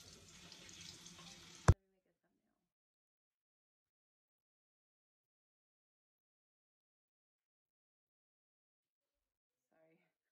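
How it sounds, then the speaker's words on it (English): A makeup sponge is rinsed under a running tap, a steady close gush of water that lasts under two seconds before a sharp click cuts it off, leaving near silence. "Let me wash one of my sponges."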